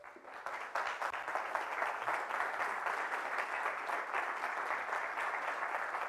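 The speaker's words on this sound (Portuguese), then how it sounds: "Uma salva de palmas para ele." An audience at a Porto talk event applauds continuously for about six seconds, a dense, even crowd of clapping that holds steady after a brief start.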